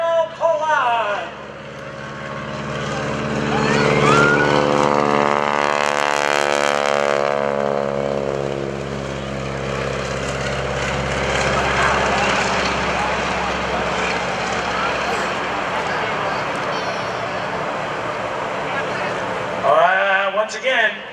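An airshow stunt plane's engine throttles up during a wingwalking act, a loud sustained drone whose pitch rises and sweeps as it passes, heard outdoors for most of the stretch.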